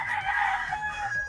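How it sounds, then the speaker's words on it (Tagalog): Golden Boy broodcock roosters crowing on a game farm, a loud close crow stretched over a second or so with another bird faintly behind. "Ito yung mga broodcock natin sa Golden Boy."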